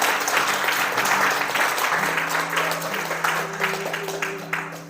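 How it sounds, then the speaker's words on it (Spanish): Congregation applauding during a Sunday church service, a dense, loud wash of clapping filling the whole stretch and easing slightly toward the end, with a steady organ or keyboard tone sustained underneath. "si das un aplauso, dáselo al Señor, pero bien fuerte"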